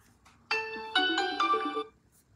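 An incoming call sets off a phone ringtone, a short bright melodic tone of a few rising and falling notes that plays clearly and alone for about a second and a half.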